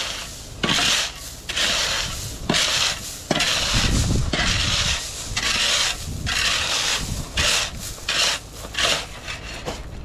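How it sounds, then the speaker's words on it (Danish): Gravel scraped and shoveled off paving slabs outdoors at the start of a garage build: repeated loud gritty scrapes and crunches in irregular strokes separated by short pauses, with no voices. "Det jeg synes er nemmest, lige rydde gruset."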